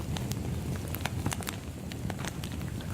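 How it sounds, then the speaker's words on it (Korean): Campfire crackling alone, with scattered sharp pops and snaps over a steady low rumble of burning, moderately close. "모닥불 타는 소리,"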